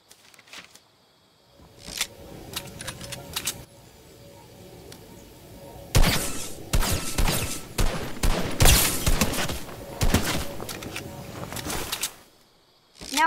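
Bursts of rapid gunfire from the video game Fortnite come in loud, dense volleys with short gaps between them, starting sparse and building into heavy sustained firing.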